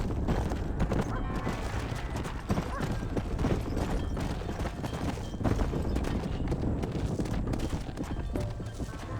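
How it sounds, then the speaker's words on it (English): Horse hooves gallop in the Western video game Red Dead Redemption, a dense steady drum of clip-clops with rumbling low thuds, continuous and close throughout, a faint voice occasionally underneath. "Hit your horse and wait for me by the stable."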